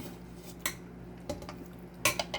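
Dry pasta tipped into a metal pot for Irish macaroni, with a few sharp clinks and scrapes spaced over a couple of seconds, loudest near the end, over a steady low hum in a quiet kitchen.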